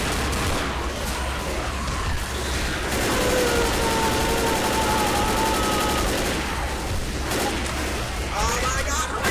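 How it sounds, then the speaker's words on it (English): Sustained machine gun fire from the Left 4 Dead video game, a dense continuous rattle of gunfire filling the whole stretch, with shouting voices over the top. "It's a machine gun!"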